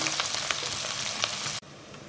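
Chopped onions and dried red chillies frying in hot oil give a steady, loud sizzle that runs unbroken for over a second and a half, then cuts off abruptly and drops to a quieter hiss.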